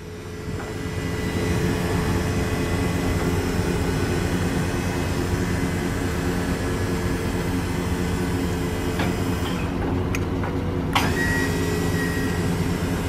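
A Braun 750lb wheelchair lift runs on a 2013 Chevy Express conversion van, giving a steady, loud mechanical hum and whine throughout, with a few faint clicks near the end.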